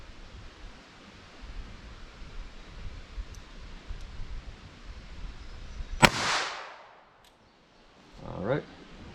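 A single sharp report from a .22 LR snub-nosed revolver fired through a birch dowel into ballistics gel, a sudden crack with a short outdoor tail, then quiet background hiss and a faint later rustle.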